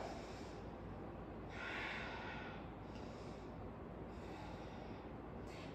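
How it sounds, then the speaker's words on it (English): Heavy, rhythmic breaths and snorting exhales come from someone straining through a dumbbell workout, close and steady over a constant background rush. "Breathe through the hard part"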